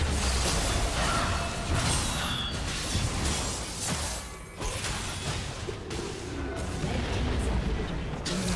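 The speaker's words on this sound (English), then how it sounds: "Team's turret has been destroyed." A turret being destroyed in League of Legends: a loud, sustained blast of rumbling, crackling explosions and whooshing debris runs for several seconds, dense game effects filling the whole span with only a brief dip midway.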